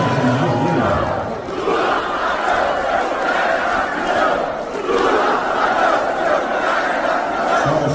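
Crowd booing at a public appearance: a dense, sustained roar of many voices, loud and continuous for the whole stretch with slight swells.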